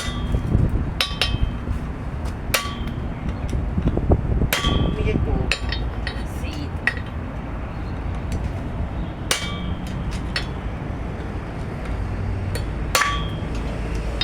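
Sharp metallic strikes of a screwdriver being hammered to drive a universal joint bearing into the driveshaft of a Toyota Commuter van, irregular hits spaced a second or more apart over a steady background din.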